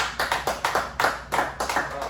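A small group claps in a rhythmic, steady beat of about eight sharp claps, close and fairly loud, with no one talking over it.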